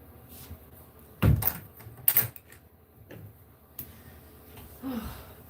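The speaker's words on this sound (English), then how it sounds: "Shut this door." A door is shut nearby in a home, with a solid thud, then a few light clicks and rattles of the latch and handle, and a quieter bump afterwards; no talking.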